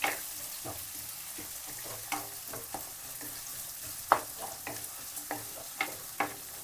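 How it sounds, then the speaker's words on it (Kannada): Poha being stirred as it fries in a pan, with a soft sizzle under repeated scraping strokes and sharp utensil taps against the pan at irregular intervals. "ಚೆನ್ನಾಗಿ ಗೂರಾಡ್ರಿ ಈ ಥರ"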